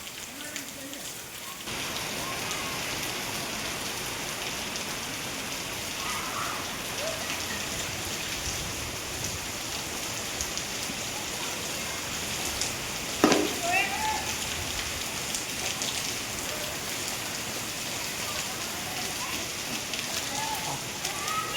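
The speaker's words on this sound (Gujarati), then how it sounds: "હવે વરસાદ પણ ચાલુ જ છે, હજુ થોડો થોડો વરસાદ ચાલે છે" Steady, soft patter of light rain falling continuously during an outdoor cricket game, a broad hiss with a brief louder tap partway through.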